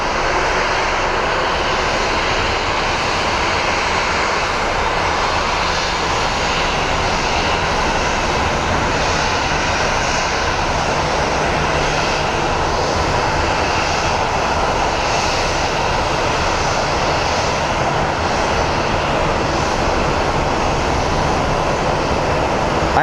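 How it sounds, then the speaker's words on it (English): American Airlines flight 2182 from Nashville lands on runway 7 right at Phoenix Sky Harbor, its jet engines a loud, steady, broadband roar that holds throughout without any talking. "up next we have American Airlines 2182 coming in from Nashville. That is going to be landing on runway 7 left."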